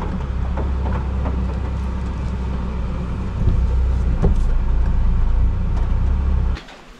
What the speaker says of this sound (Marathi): चला, आमची गाडी प्लॅटफॉर्मवर आणू द्या बरोबर आतमध्ये